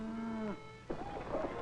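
A cow lets out a low drawn-out moo, followed after a short pause by a second, shorter lowing call nearby.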